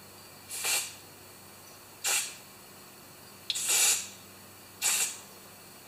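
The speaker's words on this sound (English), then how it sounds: "I'm going to clean it out with the carb spray." Four short, sharp bursts of carburetor cleaner spray into a Honda EB2200X generator that won't start, each about a quarter-second long with quiet gaps between, close and crisp, with the third slightly longer.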